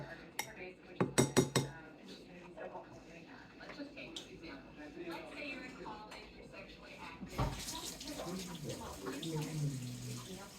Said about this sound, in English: I'm going to wash my hand because it's a bit dirty from